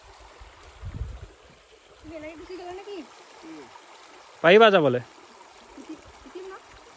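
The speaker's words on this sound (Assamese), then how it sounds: "এইফালে নদী এখন পাই গ'লোঁ সেইখনেই নদী" A mountain river in Dzukou Valley, Nagaland, rushes as a steady wash of water in the background while people talk nearby.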